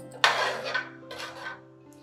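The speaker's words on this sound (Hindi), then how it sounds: "अब इसमें हरा धनिया डालकर चलाते हुए मिला लें।" A spoon scrapes and knocks against a metal pot of cooked masoor dal (red lentils) with green coriander in two short stirring bursts, close up against a quiet background hum.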